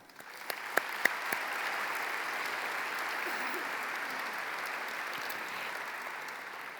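Sustained applause from an audience in a pavilion at a 2023 high school commencement ceremony, a steady wash of many clapping hands with a few sharper claps up close at the start, holding evenly throughout.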